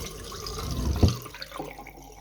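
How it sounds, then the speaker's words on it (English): Water is tipped out of a Hoover vacuum's water tank into a sink, a short gurgling splash peaking midway and then trailing off quietly. "You can generally just tip the water away."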